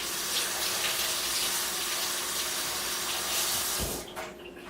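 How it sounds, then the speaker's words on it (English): Water runs from a kitchen tap for rinsing during meal prep, a steady close rushing hiss that holds evenly and then cuts off near the end. "you will need to rinse it"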